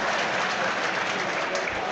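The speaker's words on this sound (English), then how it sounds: "gets an applause from his home fans" Home fans at Crewe Alexandra's ground applaud a ball boy during an FA Cup match against Derby County, a steady wash of distant stadium clapping and crowd noise.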